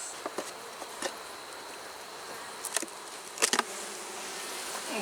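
Honey bees hum steadily at an open hive, a soft continuous buzz with a few brief louder passes of individual bees close by.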